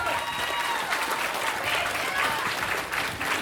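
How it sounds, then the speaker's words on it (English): Audience at the CanFURence 2019 live show breaks into sustained applause, dense clapping with crowd noise and some cheering blended in, steady and loud throughout. "You all deserve a round of applause."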